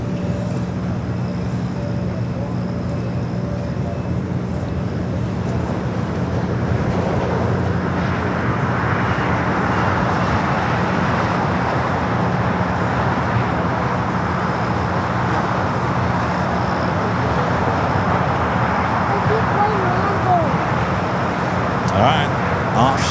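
An airliner takes off at LAX, its engine roar building into a broad, steady rumble that holds loud and fairly near for the whole stretch, with traffic hum underneath.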